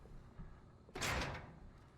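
Door in the video game Warzone slamming open, a single sharp bang that follows faint background game noise, brief and fairly close.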